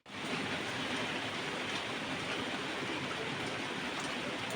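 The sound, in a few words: rain falling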